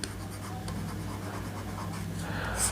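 Pen or marker writing out the full names of trigonometric ratios on a board during a class, a steady soft scratching stroke that runs continuously and fairly close.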